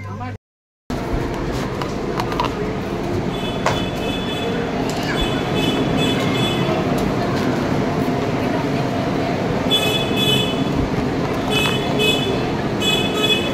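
Vande Bharat Express pulling into Howrah station: steady rumbling train noise throughout with repeated short tonal toots or chimes, a brief dropout near the start, and people talking faintly amid the station ambience.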